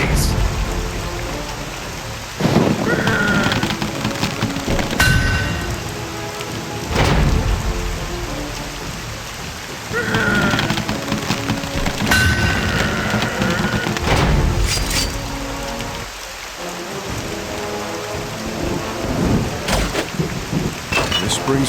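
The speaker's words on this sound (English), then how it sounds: "Why did it have to rain today, of all days?" Steady heavy rain hisses through a battle scene in The Cursed Crusade on PS3, broken by several loud, booming thunder cracks and rumbles spaced a few seconds apart.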